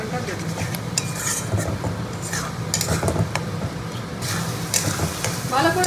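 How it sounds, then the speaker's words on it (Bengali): Spiced masala and onions are stir-fried in a pan for a mutton curry, with a steady sizzle under repeated scraping and clinking of a metal spoon against the pan. A voice talks intermittently over the cooking. "এখন আমি মাটন দেবো না, ভালো করে মশলাটা কষিয়ে নিই,"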